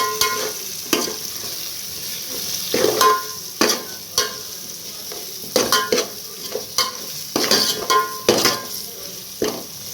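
Coriander powder stirred into masala frying in a pan for a meal maker pulao: a spoon scrapes in repeated strokes, loud and close, over a steady hiss of sizzling oil.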